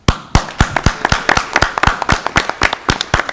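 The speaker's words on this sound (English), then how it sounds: "I wish to applaud you" A small group at a township board of trustees meeting claps for a retiring trustee, loud close individual hand claps in a loose, uneven rhythm with no talking.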